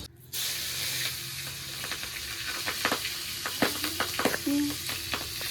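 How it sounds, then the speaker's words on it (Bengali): Steady hissing sizzle of pabda fish pieces frying in hot oil, with scattered crackles and pops, close and fairly loud, no voices. "মাছগুলো ওদিকে ভাজা হচ্ছে"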